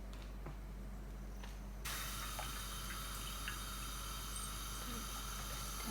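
Water poured from a cup into a pot to make sugar syrup for milk-powder gulab jamun, a steady close splashing and running hiss starting partway through and continuing to the end.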